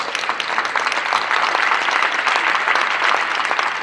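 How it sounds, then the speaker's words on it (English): Audience members at a state supreme court historical board recognition ceremony applaud with steady, dense clapping at a moderate level from start to finish, heard alone without talk. "he deserves a special round of applause"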